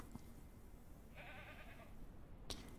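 A goat on a farm in the game Ranch Simulator gives a single short, faint bleat lasting under a second. Quiet background hiss surrounds it, with a small knock just after.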